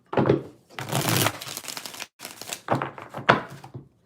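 Tarot cards are shuffled by hand in several quick riffling bursts, close and moderately loud, with brief pauses between shuffles.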